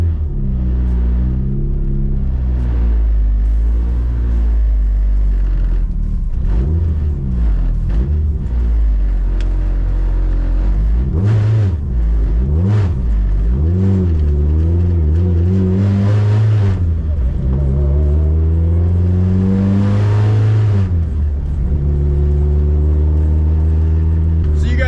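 A Subaru car engine running after being started, a loud deep rumble with shifting tones as it revs and settles toward idle to warm up, close and continuous.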